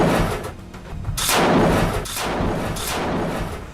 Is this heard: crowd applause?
no